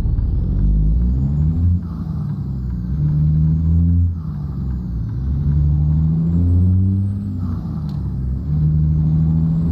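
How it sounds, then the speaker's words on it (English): A loud truck engine in American Truck Simulator drones steadily, its pitch rising and falling as it revs and shifts, with no voices. "this engine is just as loud as the one in the other truck"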